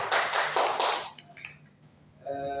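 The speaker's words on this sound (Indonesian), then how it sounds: "Beri aplaus kepada Jumadil." Short burst of classroom applause for a student, several pairs of hands clapping briskly for about a second before fading into quiet room sounds.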